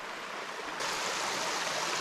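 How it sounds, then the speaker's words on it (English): Creek water cresting over a pipe laid across a stream on a backpacking loop in the Quehanna Wild, a steady broadband rushing that grows slightly louder partway through, continuous and close with no voices. "that water's cresting over"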